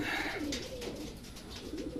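Racing pigeons in a truck give low, rolling coos over a constant rumbling background hum, the birds fairly close but soft, with no talking.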